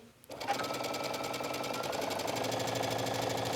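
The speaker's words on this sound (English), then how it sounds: "So I'm just stitching with a straight stitch all the way down the side seam." A sewing machine runs a straight stitch down the side seam of a knit T-shirt, starting up after a brief pause and then humming in a steady, rapid, close rhythm throughout.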